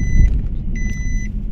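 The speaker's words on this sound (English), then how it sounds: "Why is this car making noise?" A car heard from inside or nearby, with a steady low engine rumble and two long high electronic beeps or tones sounding over it, moderately loud.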